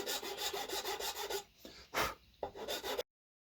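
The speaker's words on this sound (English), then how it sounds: "Just sanding a bit of maple." Maple wood being sanded by hand, close and quiet: steady rhythmic rasping strokes, briefly broken near the end before stopping.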